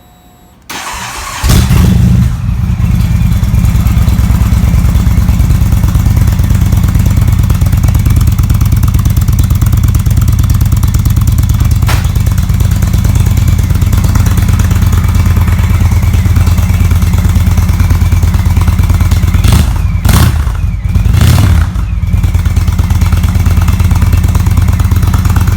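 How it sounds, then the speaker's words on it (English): A 2017 Indian Roadmaster motorcycle engine fitted with Vance and Hines slip-on mufflers cranks and fires, then settles into a loud, steady, rumbling idle that runs close-up for the rest of the clip, with a couple of brief dips near the end. "I'm going to crank her up here. Make sure we're neutral."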